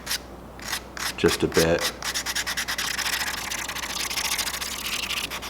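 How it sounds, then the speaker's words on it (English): A sanding block rubs back and forth over a wooden crankbait lure, a close, steady rasping scrape in quick regular strokes, with a few brief words spoken. "Sometimes I switch to this sanding block."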